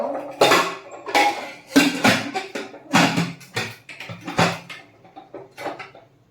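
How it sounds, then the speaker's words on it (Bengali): A pressure cooker of moong dal is handled and its lid closed, giving a series of close metallic clanks and clinks in irregular bursts, alone without talk. "এবার সেদ্ধ করে নেবো কুকারের ঢাকাটা বন্ধ করে দেব"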